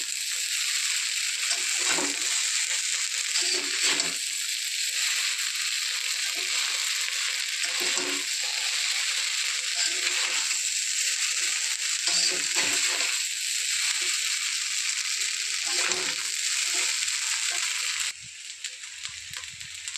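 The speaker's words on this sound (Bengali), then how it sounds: "একটু নাড়িয়ে একসাথে নাড়িয়ে দিয়ে দেবো।" Vegetable pasta with coriander leaves in a pan, a steady loud hissing sizzle throughout with occasional soft stirring scrapes underneath, dropping off abruptly near the end.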